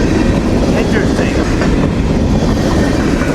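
A CSX freight train, mostly empty cars with no rear locomotive, rolls past a road crossing at Nortonville, Kentucky, its loud continuous clickety-clack of wheels on rails filling the whole stretch up close.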